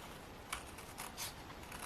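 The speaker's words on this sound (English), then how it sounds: "I'll use my scissors, and I'm just going to trim my own edge here" Scissors trimming the edge of a handmade quilted paper tag, a few faint quick snips and paper rustles spaced irregularly over a quiet background.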